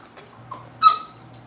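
A dog whimpers to be let outside, giving a couple of short, faint whines with a sharper high-pitched yelp near the end, close by and with no talking.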